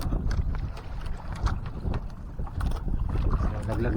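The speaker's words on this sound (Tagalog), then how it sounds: "Malakas na yung hangin." Strong wind at sea buffeting a small fishing boat, gusty rough blustering that swells and eases over several seconds, close and fairly full with occasional knocks from the boat.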